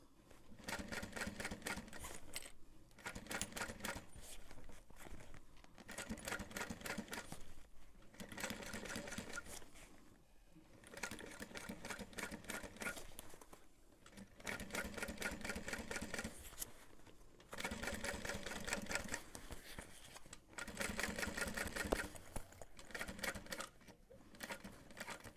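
A sewing machine stitches a backpack seam in repeated bursts of rapid mechanical chatter, each run lasting a few seconds and separated by brief pauses, steady and close with no talking.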